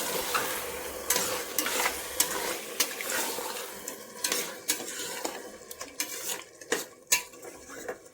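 Curd being stirred into chicken biryani masala in a pan, a metal spoon scraping and clinking repeatedly against the pan over a steady frying sizzle.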